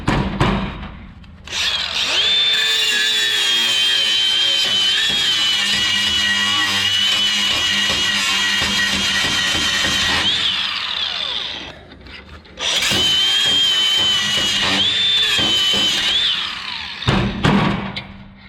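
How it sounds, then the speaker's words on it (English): A power tool polishes a washer in two long, loud grinding runs with a steady whine, separated by a short lull and followed by brief scraping at the end. "A little more polishing on that washer."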